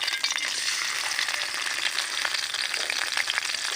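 Chopped tomato fries in hot white oil in a wok, giving a dense, steady crackling sizzle with faint stirring scrapes, close up and without any voices.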